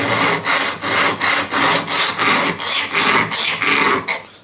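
Pocket knife blade drawn repeatedly across a metal file, a steady train of about nine harsh, gritty rasping strokes, close and loud, with no talking.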